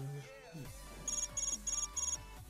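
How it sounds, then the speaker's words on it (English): A phone ringtone or alarm sounds close by in four quick bursts of rapid high electronic beeps, over music and chatter from a video game. "Is that a phone?"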